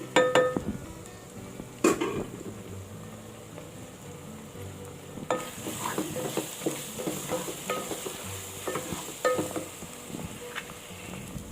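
Masala powders and turmeric fry in a pan for mutton curry, a steady sizzle under repeated scraping and clinking of a spoon stirring against the metal pan, close and continuous.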